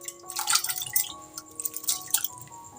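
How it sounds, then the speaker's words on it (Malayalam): Soya chunks drop into a bowl of fresh cold water, giving a short run of close, irregular wet drips and small splashes with quiet gaps between them. "ഇനി ഇതിലേക്ക് നമ്മൾ സോയ ചങ്ക്സ് ഇട്ട് കൊടുക്കാം."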